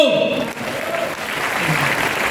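An audience at a motivational speech claps in a brief, even burst, with a voice trailing off at the start before the clapping carries on steadily.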